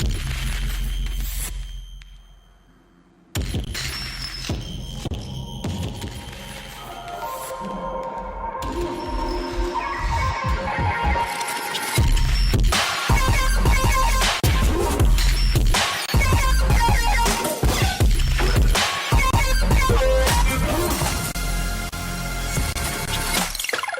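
Dense sound-design track mixing a distorted drum break with reversed metallic swells, reverse reverb tails and Foley hits, loud and busy throughout after a brief quieter opening, building into layered crashes and sweeps.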